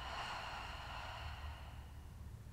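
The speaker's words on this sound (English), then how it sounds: "An audible exhale." A long, breathy open-mouth exhale during gentle yoga breathing, soft and close. It is heard alone as one drawn-out sigh that gradually fades.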